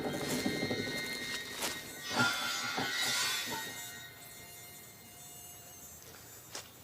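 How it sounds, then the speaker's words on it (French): Mosquitoes whine and buzz steadily close by on a rubber latex plantation in Thailand, a thin continuous drone that fades slightly toward the end, with no speech. "para deleite dos mosquitos."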